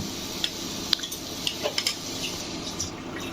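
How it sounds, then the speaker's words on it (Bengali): A spoon stirs grated coconut in a pot for dudh pitha, making light, scattered metallic clinks and scrapes over a faint background hiss, with no talk. "চামচ দিয়ে একটু নেড়ে দিলাম"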